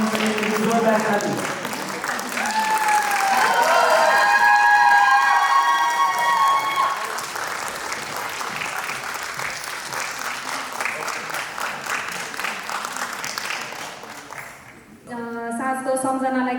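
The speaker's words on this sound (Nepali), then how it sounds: "मानिसहरूको जोरदार ताली" An audience at a group dance competition in Tokyo claps loudly for several seconds, the applause thinning out as a voice speaks over it, then dying away before a short burst of music at the end.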